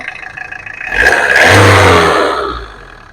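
A used Tata Indica V2 with a turbo engine revs up close and loud, rising to a roaring peak and then easing back down over a few seconds. No one speaks.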